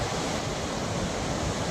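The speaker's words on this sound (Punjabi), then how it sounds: "ਐ ਉੱਤੋਂ ਆਉਂਦਾ ਪਾਣੀ ਉਹ ਉੱਪਰਲੇ ਪਹਾੜਾਂ ਚੋਂ ਪਰੇ ਟੀਸ਼ੀਆਂ ਤੋਂ ਬਰਫੀਲੀ ਚੋਟੀਆਂ ਚੋਂ ਖੜ ਖੜ ਕੇ" Dense, steady roar of a snow-fed mountain river in Kinnaur rushing down from the peaks fills the scene continuously, loud and close, with no voices.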